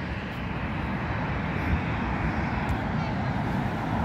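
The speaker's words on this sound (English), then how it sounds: "Oh wait, it's 787 again. Yep, 787." A United Boeing 787 airliner flies past, its steady broad engine roar holding loud and even throughout with little change in level, while faint voices sit underneath.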